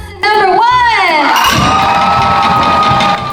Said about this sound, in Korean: 당연히 큰 함성 소리가 들렸습니다.